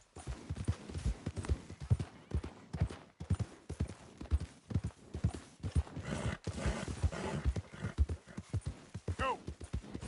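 Hooves of a horse in Red Dead Redemption 2 clop in a fast, rhythmic galloping beat, close and fairly loud, with a brief whinny near the end.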